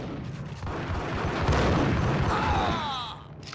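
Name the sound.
grenade explosion in Max Payne video game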